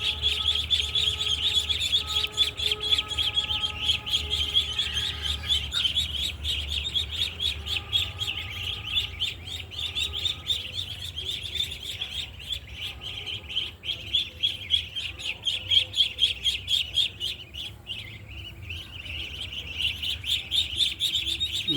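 Farm chickens call steadily and close by, with a continuous layered chatter of clucks and higher chirps from many birds throughout, against a low background rumble.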